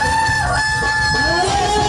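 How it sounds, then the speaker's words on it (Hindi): A rooster crows loudly and close during a Kabir Leela folk stage performance, a sustained, harmonic, strained call filling the short moment. "मुर्गो बोलो है"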